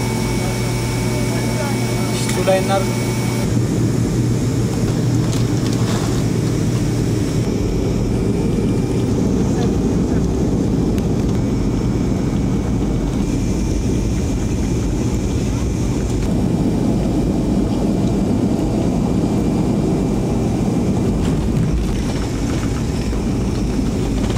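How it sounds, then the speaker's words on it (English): Airliner cabin during a flight departing Chad, a steady loud broadband roar and hum of engines and airflow that continues unbroken throughout, with a faint voice briefly audible near the start. "Now we're taking off from Chad and we will be on a 3-hour flight landing in"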